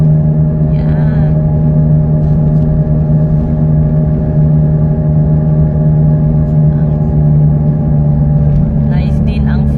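Steady drone of road traffic in Toyohashi, Japan: a continuous low engine rumble from passing cars, loud and close throughout, with brief brighter whooshes near the start and end.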